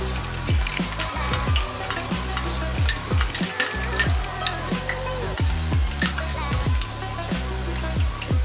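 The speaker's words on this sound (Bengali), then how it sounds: "এখন আমি এই পেঁয়াজ কুচিটি তেলের মধ্যে দিয়ে দিব" Chopped onion frying in hot oil for a Bangladeshi chicken bhuna, a steady close sizzle broken by regular clinks and scrapes of a stirring utensil against the pan, with no talking.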